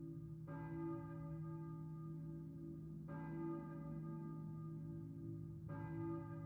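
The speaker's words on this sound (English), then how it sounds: "I hear a bell." Church bell in the Silent Hill video game, three slow, evenly spaced strikes with long shimmering tails that ring out and fade, sounding faint and distant, with no voices.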